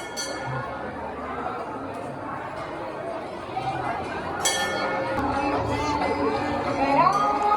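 Crowd milling at the Bahiram Baba Yatra fair, a steady murmur of many voices with children's shouts and occasional clinks, growing slightly louder and busier toward the end.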